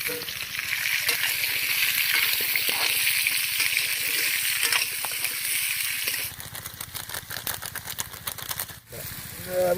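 Drumstick flower fritters frying in hot oil, a loud, continuous close-up sizzle with crackling bursts that turn more irregular toward the end.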